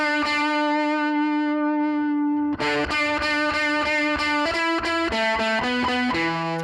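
Electric guitar played through a ToneX pedal paired with a BOSS GT-1000, a sustained distorted note ringing alone before a run of rhythmic, harmonically rich picked notes and chords, loud and close.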